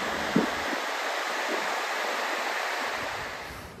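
Ocean surf at Trestles beach in San Diego County, a continuous broad wash of breaking waves with wind noise on the microphone, fading slightly toward the end.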